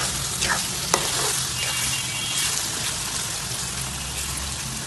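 Beef liver fries in a pan over a gas flame, a steady close sizzle with crackling spatter and occasional stirring scrapes throughout, no voices.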